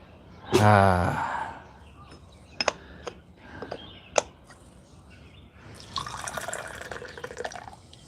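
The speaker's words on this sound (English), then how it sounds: "I'm just going to break into this brick right now and just do a little rinse." Water pours briefly over a brick of Liu Bao tea for a rinse outdoors beside a coal stove, followed by scattered drips and light clinks, then a soft trickling splash near the end.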